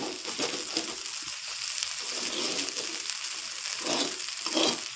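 Soaked fasting khichdi mixture with green chilli and salt sautéing in ghee, a steady soft sizzle with faint stirring scrapes, close and fairly quiet, no talk.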